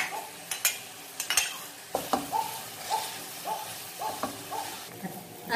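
Garlic stirred and sautéed with already-cooked onion in a pan, utensil scraping and clinking against the pan in repeated strokes with a soft sizzle underneath, close and moderately loud.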